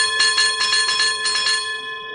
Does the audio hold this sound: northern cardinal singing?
no